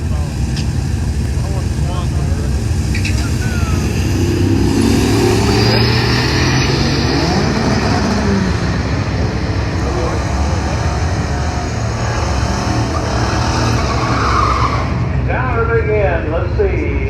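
A turbocharged Dodge Diplomat with an EFI 5.2 V8, automatic transmission and 391-geared spooled rear end accelerating hard down a drag strip, a loud sustained engine roar rising in pitch, with voices talking over it.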